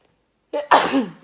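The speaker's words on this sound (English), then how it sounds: "I'm gonna sneeze, but anyway." A single close, sharp sneeze with a brief intake before it, then silence.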